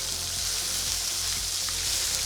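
Grease sizzles and crackles steadily in a frying pan while dinner cooks, a close, continuous hiss with small pops and no talking.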